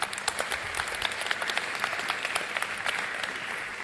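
An audience of developers and entrepreneurs in Lagos gives a sustained round of applause, many hands clapping in a dense, steady patter with individual sharp claps standing out throughout.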